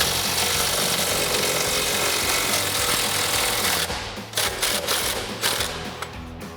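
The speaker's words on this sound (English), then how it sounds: "I will take my 3/8 gun with my 18 millimeter on, get in place" A 3/8-inch impact gun fitted with an 18 mm socket rattles loudly in a continuous hammering burst on a Ford F-250 front-end bolt, then breaks into several short, choppy bursts near the end.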